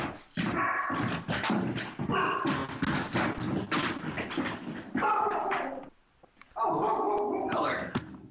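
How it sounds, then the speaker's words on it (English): Miller the attack dog barking repeatedly close by, loud harsh barks in quick bursts with a short pause before a final volley. "This is Miller. The attack dog."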